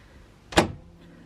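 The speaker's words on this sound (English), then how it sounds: "I can shut the door and open it." A room door swings shut with a single sharp thud-like knock, brief and close, followed by a faint softer click as it is opened again.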